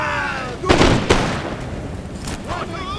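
Muskets fire in an Empire Total War battle at a fort: two sharp, booming reports close together, then a softer third shot, over a background murmur of battle.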